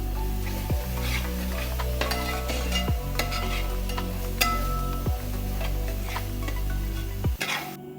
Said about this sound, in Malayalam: നമ്മൾ നേരത്തെ ചോപ്പ് ചെയ്ത് ഗ്രീൻ ചില്ലീസും ആഡ് ചെയ്ത് നന്നായിട്ട് സോട്ടേ ചെയ്യാം.